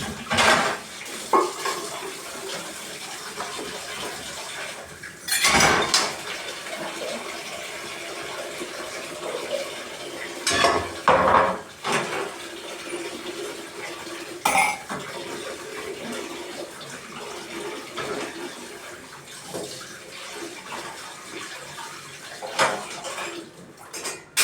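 Pots and dishes are washed under a running tap, with continuous splashing water broken by occasional louder clatters and bangs of cookware, close by and without speech.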